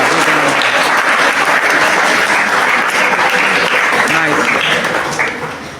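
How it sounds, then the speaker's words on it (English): A school audience bursts into sustained, loud applause at a talk on social media use, steady clapping that holds for several seconds before tapering off near the end. "give him a big round of applause"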